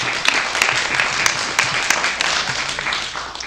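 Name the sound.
audience applause for a council candidate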